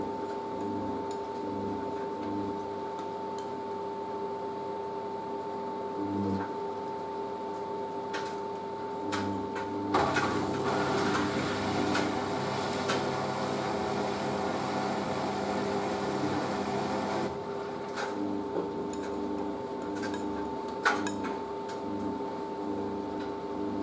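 A constant low mechanical hum of a Merloni Electra WD1100 washer dryer's drying fan running steadily, with occasional soft ticks and a brief louder whooshing stretch in the middle.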